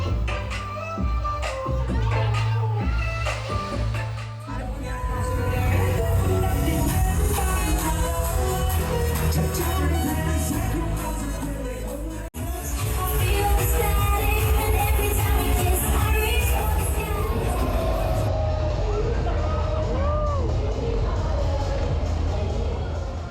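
A lively walking-street party in Saigon at night, with loud pounding music and a dense, chattering crowd blending into a steady roar, the beat shifting partway through as the mix moves along the street.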